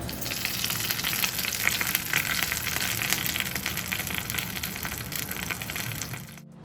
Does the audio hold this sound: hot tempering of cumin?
yes